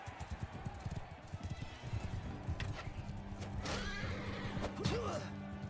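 A horse whinnies in the medieval combat game Mount & Blade II: Bannerlord, with shrill neighs rising over rapid galloping hoofbeats and battlefield bustle, moderately close and fairly quiet overall.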